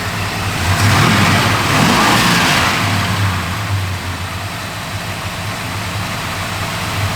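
A 1970 Dodge Super Bee V8 with a mild cam, running on pump gas, rumbles loudly nearby and swells in a brief rev before settling back to a steady idle.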